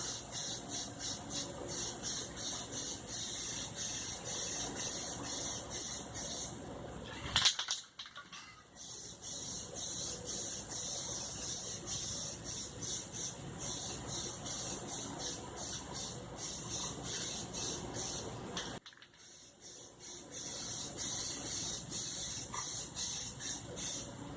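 Rattle-can aerosol paint sprayed onto a vehicle brush guard, a steady close hissing spray in long bursts with two short pauses where the nozzle is released.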